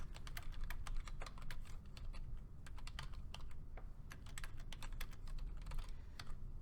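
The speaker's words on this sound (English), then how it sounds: "And now we can start typing our paper." A computer keyboard clatters under steady typing on a Word document, quick irregular keystrokes close up and fairly quiet, continuing without pause and with no voices.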